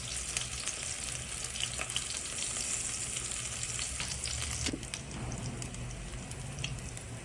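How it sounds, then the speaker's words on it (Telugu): Asafoetida fries in a pan with green chillies for sambar, giving a steady close sizzle that runs throughout, with faint stirring and clinks. "కొంచెం ఇంగువ వేసుకొని ఫ్రై చేసుకోండి."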